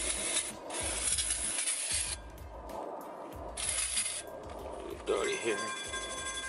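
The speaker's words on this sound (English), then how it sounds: "make sure that you clean your rotor with your brake cleaner" New brake rotor on a BMW E46 being cleaned with brake cleaner: repeated rubbing and wiping strokes in an uneven rhythm, close up, with a person talking over parts of it.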